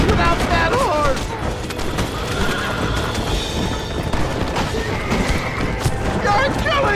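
Horse neighing in the Red Dead Redemption video game, whinnies rising over a dense, loud bed of hooves, gunfire and crashing noise, with voices talking over it.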